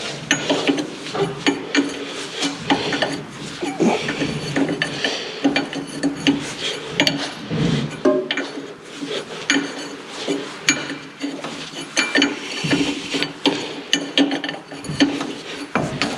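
A wrench works a bolt loose on a Chevrolet C8500 truck under repair, producing a busy, continuous run of close metallic clinks, ratcheting clicks and clanks with no talking.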